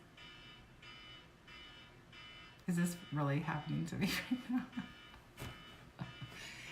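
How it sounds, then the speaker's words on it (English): An alarm goes off in a home during a makeup session, a steady repeating electronic beep sitting low in the background while someone talks loudly over it. "we'll try to ignore the alarm going off in the background"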